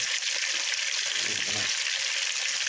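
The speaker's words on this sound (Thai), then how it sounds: "ผมทอดแบบนี้ทอดติดกระทะบ่พี่น้อง" Fermented fish (pla som) frying in a pan, giving a continuous bright sizzle and crackle, with a soft low clatter or stir in the middle and no clear talk.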